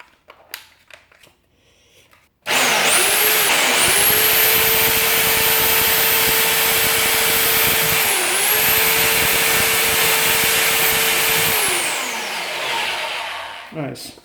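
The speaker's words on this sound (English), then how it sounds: "Let's test it on drilling only." A Parkside hammer drill, model PBH 1050 B2 or PBH 1500 D4, drilling into brick in drill-only mode: a loud, steady motor whine held for about ten seconds after a few preparatory clicks, then winding down at the end.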